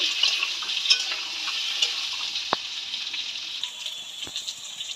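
Small boiled potatoes for aloo dum sizzle and fry in a pan, with a steady crackling hiss and occasional sharp clinks of the spatula against the pan, close and clear.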